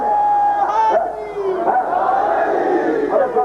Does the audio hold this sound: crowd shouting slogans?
yes